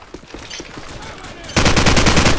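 Gunfire in the Call of Duty video game, aimed at a planted bomb. Scattered shots come first, then a loud, rapid burst of automatic fire at close range.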